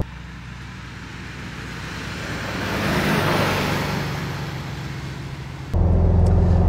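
A restored 1963 VW T1 Samba bus with a 34 hp engine drives along, a steady engine and road drone heard from inside that swells, then jumps louder near the end.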